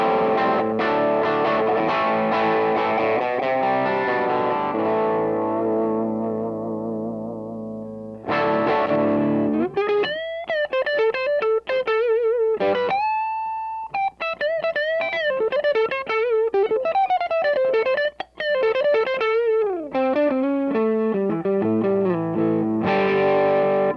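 Electric guitar played through an overdrive pedal set fairly clean, with sustained chords at first, then a stretch of sharp picked single notes and bends, loud and close with no talking.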